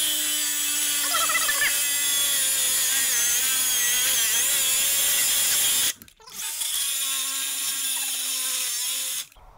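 Angle grinder cutting through metal, a loud steady high-pitched whine with harmonic overtones that runs for about six seconds, cuts out briefly, then resumes at full strength.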